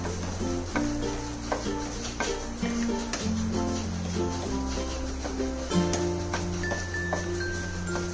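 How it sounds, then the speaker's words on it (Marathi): Crushed asafoetida roasts in a pan for a raw mango pickle, giving a steady soft sizzle with light scraping and occasional clinks of a utensil against the pan, and no talking. "हिंग फोडून घेतले आणि आता भाजते"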